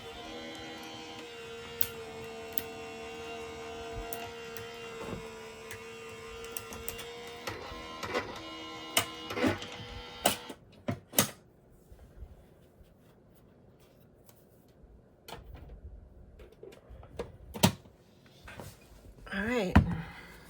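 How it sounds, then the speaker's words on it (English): A loud Diamond Press die cutting machine runs with a steady, droning motor whine and regular clicks for about ten seconds. It then stops, leaving scattered knocks and handling sounds in a quieter room. "You're gonna hear my loud die cutting machine."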